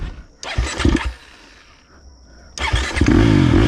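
A 2023 KTM 350 XC-F motorcycle ridden on a trail, its engine rising in bursts, dropping to a low idle, then surging loud again near the end, with no talk.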